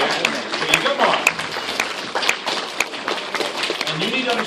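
A screening-tour audience at a Q&A with Peter S. Beagle applauding: dense, steady clapping from many hands in a hall, sustained throughout at fairly loud level.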